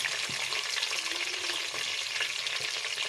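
Garlic and ginger paste sizzles and crackles steadily in a hot pan, with occasional scraping knocks of a spoon stirring through it.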